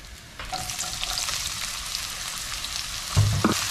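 Chopped garlic and onion frying in a little oil, a bright steady sizzle that swells as the pieces settle, with a couple of clinks from a utensil near the end.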